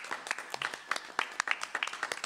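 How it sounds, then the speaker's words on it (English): A small comedy club audience claps after a stand-up set, with scattered, uneven handclaps that sound fairly thin and moderately close, continuing steadily for a couple of seconds. "Let's get a big square of applause for Steve and Ty."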